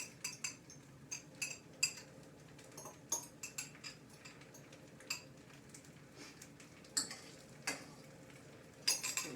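Egg yolks for a gluten-free frumenty are beaten in a bowl with a utensil, giving faint, quick irregular clicks and taps against the side, close by and with no talking.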